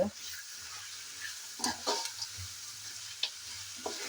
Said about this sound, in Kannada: ಲೋ ಫ್ಲೇಮ್ ಹುಡ್ದಿದ್ದು ಎರಡು ನಿಮಿಷ ಲಾಯ್ಕ್ ಫ್ರೈ ಮಾಡ್ತೀವಿ